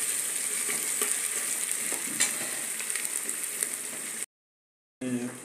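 Fresh mutton cooking in a pan, a constant close sizzle with occasional stirring scrapes, then a short gap of silence before the sizzling resumes.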